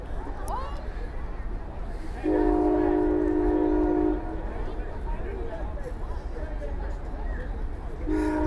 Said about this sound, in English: I've never been somewhere that had so many trains go by during a football game.